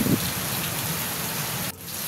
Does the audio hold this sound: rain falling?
yes